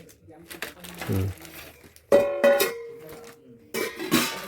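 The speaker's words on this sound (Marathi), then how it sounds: "टोपात टोप घालून असे तीन टोप आहेत" Three nested metal cooking pots with lids clang and ring as they are handled up close, with sharp metallic strikes and lingering resonant tones, under a person talking.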